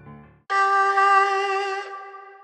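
Sampled zonghu, a Chinese bowed string instrument, sounding one sustained bright bowed note with vibrato that holds for over a second and then fades, preceded by a brief softer low tone, alone.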